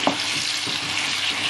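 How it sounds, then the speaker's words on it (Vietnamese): Food frying in oil over high heat after salt and chicken seasoning powder are added, giving a steady, loud sizzle with a few stirring clatters near the start and no talking. "Chiên ở lửa lớn luôn."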